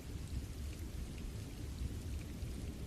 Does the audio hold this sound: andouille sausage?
no